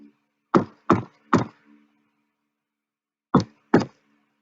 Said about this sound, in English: She tapped 3 times on the door, waited a moment, and then tapped 2 more times.